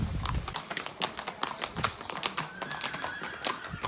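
A horse on a rural Camino Frances hiking trail clip-clops with quick, uneven hoof taps on the ground and lets out an upset whinny, heard fairly close but softly in an outdoor setting.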